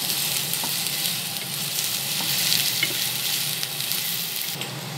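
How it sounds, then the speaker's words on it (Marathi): Onions frying in a pan for bhindi sabzi give a dense, even sizzle and crackle, close and fairly loud, with a few faint utensil taps and no voices. "थोडा कांदा त्यांना फ्राय करायचा।"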